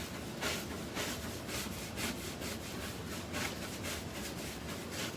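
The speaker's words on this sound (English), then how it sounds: "I'm going to scrub this a little bit" Rhythmic back-and-forth scrubbing strokes rasp across a painted surface being prepared for foils, steady and close with no talking.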